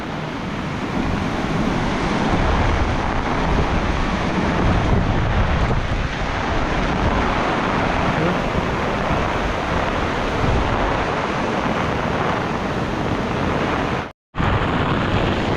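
A loud, continuous roar of strong typhoon wind buffeting the microphone with rushing rain noise on a farm, steady throughout with one brief dropout near the end.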